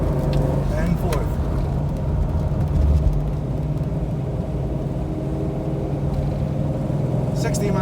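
A 1969 Shelby GT500 cruising in fourth gear gives a steady, loud low engine drone from inside the cabin, with faint clicks and light rumbling; a voice speaks over it.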